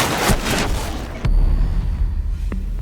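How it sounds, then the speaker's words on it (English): Booming blasts and crackling bursts from a Vulcan explosion in Rainbow Six Siege, a loud close impact midway with dense rumbling gunfire-like noise around it. "A well-timed Vulcan explosion can be the difference between lighting up the scoreboard or going down"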